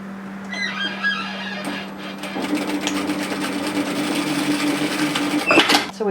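A sewing machine stitching a facing onto the band of a varsity bomber jacket, a close steady mechanical whir with a rapid needle rhythm, running continuously after a brief start, with chickens clucking faintly in the background.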